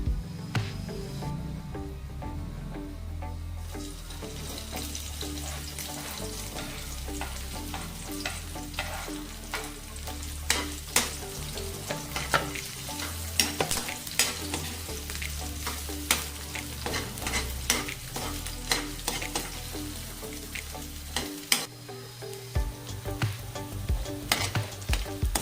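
Onion and pork fry in a pan for Filipino pork adobo, giving a steady crackling sizzle overlaid with frequent sharp clicks and scrapes from stirring, with no talking.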